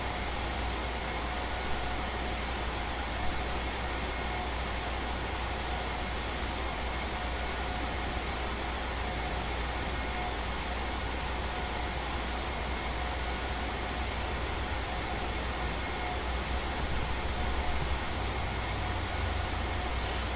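Huey helicopter idling in the flight sim DCS, a steady droning engine and rotor hum that holds level and continuous throughout, with no talk over it.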